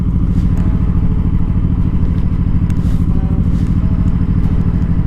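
A Honda Shadow 1100cc V-twin motorcycle engine runs with a loud, deep, steady low rumble throughout, heard up close without any speech.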